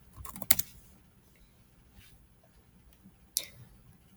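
A few quick keystrokes on a computer keyboard as a web address is entered, a short burst of clicks early on and another brief tap near the end, faint and close against a quiet room.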